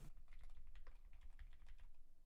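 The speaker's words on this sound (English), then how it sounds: "There, he's typing now." Rapid, continuous clicking of keys on a computer keyboard, close and fairly faint, with no voices over it.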